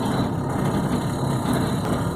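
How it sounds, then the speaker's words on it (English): A truck engine idles while warming up on a cold day, with a steady low rumble, continuous and fairly loud, with no other sounds over it. "My truck's warming. It's loud, but it's cold out,"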